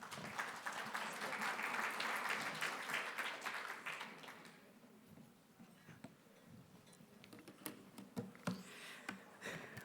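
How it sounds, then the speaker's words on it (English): Applause from a conference audience at an engineering diversity award session, loud at first and then thinning into scattered claps and faint room noise. "Please, let's give them a big round of applause."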